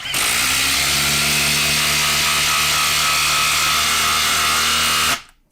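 A DeWalt or Milwaukee impact driver runs nonstop, driving a 4-inch fastener into wood, with a loud, steady mechanical whine and rattle that holds for about five seconds before stopping abruptly.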